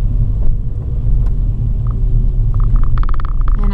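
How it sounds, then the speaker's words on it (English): A truck passes close by on a road, a loud, steady low rumble with a few sharp tonal bursts toward the end. "And I almost get hit by a truck."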